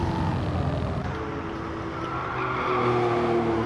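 A race car in a racing video game powers out of the final turn, its engine droning loudly and steadily with rising, shifting pitch over a continuous scrubbing tire squeal, close and alone with no voices.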